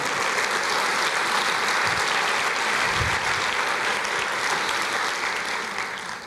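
Church congregation applauding during a Portuguese-language sermon, a loud, dense roar of clapping held steadily for over six seconds and tapering slightly at the end.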